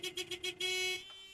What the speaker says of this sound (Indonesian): membuat kekacauan dengan klakson motornya itu